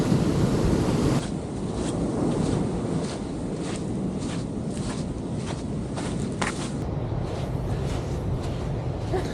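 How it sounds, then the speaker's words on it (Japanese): Ocean waves crash and wash onto a jungle-fringed beach in Colombia, a loud continuous roar of surf with wind buffeting the microphone and a few crunching footsteps on sand. "これは波がすごいしこのジャングルなんかいろんな要素が混じってますね。"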